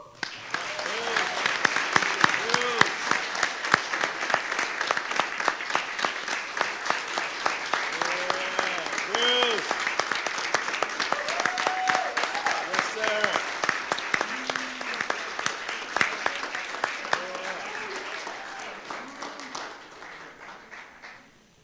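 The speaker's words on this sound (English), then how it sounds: "Let's give him a round of applause" Sustained audience applause at a school board meeting for a staff award recipient, dense hand clapping building quickly, holding for about twenty seconds, then fading, with some talk beneath.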